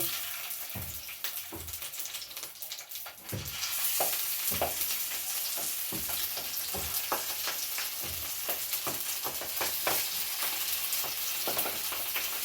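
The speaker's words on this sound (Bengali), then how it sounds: "কড়াইতে এক চামচ তেল দিয়ে ভালো করে মাখিয়ে নিয়েছি এবারে আমি কলা পাতাগুলো একে একে বসিয়ে দেব" Banana-leaf parcels of hilsa placed one by one into an oiled wok, a soft crackle that swells into a steady, loud sizzle with intermittent clicks and taps near at hand.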